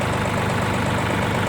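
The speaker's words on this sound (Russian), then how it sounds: "Двигатель работает ровно." A MITSU all-wheel-drive mini tractor engine idles steadily, a continuous even low rumble with faint knocking texture, close and loud throughout with no talk.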